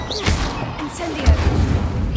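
Incendio fire spell cast during combat in the video game Hogwarts Legacy: a couple of punchy booms and thuds with whooshing crackle, played over a speaking voice.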